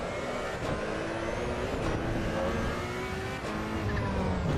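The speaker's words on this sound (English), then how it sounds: "We're going to try this Ferrari, see what it's like" A Ferrari race car's engine roars steadily in Assetto Corsa EVO, a loud continuous drone with rising and falling revs through gear changes, close and unbroken by talk.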